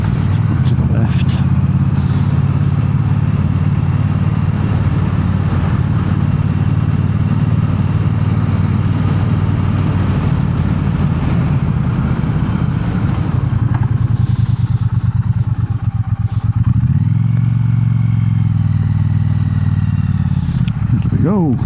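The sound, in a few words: Triumph Bonneville T120 motorcycle engine in traffic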